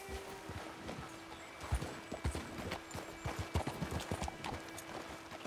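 A horse in Red Dead Redemption 2 trots along, its hooves clip-clopping in a steady close rhythm of distinct hits with faint background ambience.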